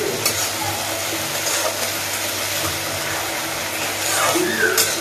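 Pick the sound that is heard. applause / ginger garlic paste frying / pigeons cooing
ginger garlic paste frying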